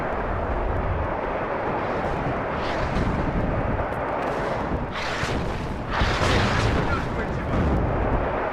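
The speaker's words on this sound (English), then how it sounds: "Because my artillery is landing any second now." WARNO artillery barrages land as heavy, rumbling booms, with several broad impacts building toward the middle and end over a continuous loud battle roar.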